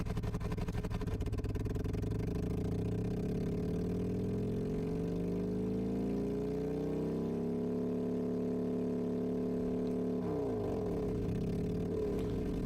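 A simulated engine in the Engine Simulator game starts on ignition. Its drone rises steadily in pitch for several seconds, then settles into a smooth, steady idle, shifting tone briefly near the end.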